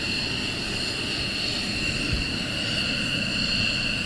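A military jet taxiing at RAF Lakenheath during surge operations, its engine a steady whining roar with high tonal whistles, held at a constant level at moderate distance.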